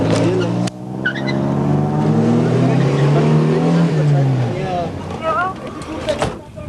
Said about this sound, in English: Another police car is already in pursuit.